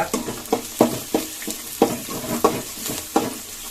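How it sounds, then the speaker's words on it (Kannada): Lemon rice seasoning with turmeric fries in a pan, a regular series of spatula stirs and taps over a low sizzle, close and moderately loud, no one talking. "ಈಗ ಇದು ಅರ್ಶನ ಹಾಕೋದ ನಂತರ ಒಂದು ಎರಡು ನಿಮಿಷ ಫ್ರೈ ಆಗಲಿ"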